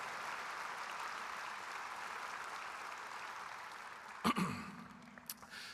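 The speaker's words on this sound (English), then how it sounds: "if you could just please give us a big round of applause for Kirby Nelson" Soft, distant applause from the audience at a national memorial ceremony for an Indigenous judge, a continuous hush of clapping that fades toward the end, broken by a sudden loud knock or bump close to the microphone.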